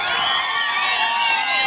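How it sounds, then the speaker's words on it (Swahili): Crowd at an outdoor political rally in Ilmotiok, Narok South, cheering and whooping continuously, a dense, loud wash of voices close by with no separate claps standing out. "pigeni makofi."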